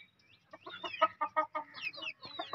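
Chickens cluck in a busy, overlapping run of short calls with a few higher squawks, close by and fairly loud, with no talking, in a village in Pakistan.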